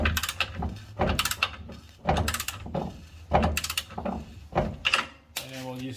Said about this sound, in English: Just gonna break it with the 18 mil socket here.